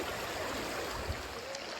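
Fast-flowing water rushing down a steep section of Mount Doug Creek, a steady close wash of sound with no breaks and no voices.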